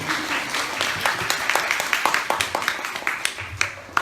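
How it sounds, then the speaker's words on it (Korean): A lecture audience at a book talk claps, a smaller, looser applause with distinct individual hand claps standing out in an uneven rhythm, moderately close, without talk. "영상 박수 한번 좀 부탁드릴게요"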